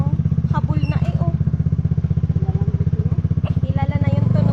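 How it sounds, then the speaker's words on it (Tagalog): A motorcycle-powered tricycle on a rural farm road throbs close by in a fast, even engine pulse that grows louder toward the end, with voices speaking over it. "Kilala na yung tunog ng tricycle dito."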